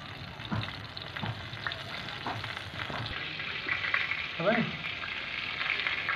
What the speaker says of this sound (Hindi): ये ऑयल उस पर डाल दिया तवे में तलने के लिए